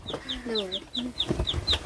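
Chickens cluck in short repeated bursts, close and fairly loud, with some brief rustling and other farm background between calls.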